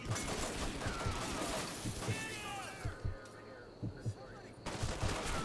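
Rapid bursts of gunfire from the video game Hatred crackle in clustered volleys, with someone talking quietly underneath and a brief rising electronic tone partway through.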